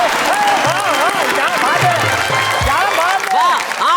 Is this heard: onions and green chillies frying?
no